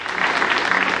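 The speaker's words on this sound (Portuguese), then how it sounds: "aplaude a Jesus aí galera" Congregation at a church meeting gives a short, dense round of clapping, steady and unbroken, with no voices over it.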